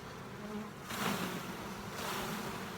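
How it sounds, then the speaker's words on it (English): A dense, low hum of many honeybees buzzing close by at an open hive as they are shaken off a frame, swelling in loudness a couple of times. "just give these bees a bit of a shake off."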